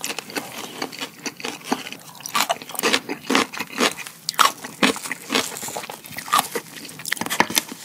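Crunchy Bburinkle fried chicken being bitten and chewed close up, with a steady run of loud, crisp crunches and bites repeating throughout, no talking.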